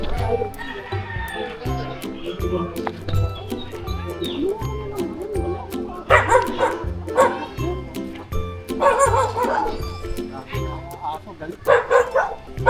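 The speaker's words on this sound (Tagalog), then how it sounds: "Galit lagi ng mga aso sa'yo eh, no?" Several dogs bark and yip in bursts through a busy outdoor scene, with whimpers between the louder volleys and people talking over and around them.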